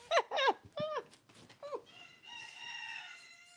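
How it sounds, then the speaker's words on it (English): A rooster crows, its bursts fairly close and clear, trailing into a lingering, higher drawn-out call. "But roosters are going to do what they do."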